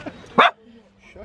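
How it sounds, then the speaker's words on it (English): A dog barks once in a short, sharp burst outdoors beside a cake and coffee van, with faint voices and low background hum before and after. "Stop barking, you lunatic."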